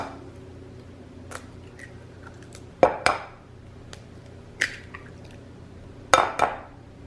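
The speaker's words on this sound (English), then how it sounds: "Next, we're going to add in 3 eggs." Three eggs going into a bowl of flour and sugar: a few sharp cracks and taps against the bowl, each followed by a soft wet plop, spaced apart over a faint steady background.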